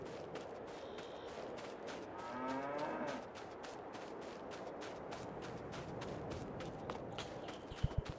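Cattle lowing in the Farming Simulator 22 game, one clear drawn-out moo standing out over steady farmyard ambience and repeated soft thuds, with a couple of sharp knocks near the end.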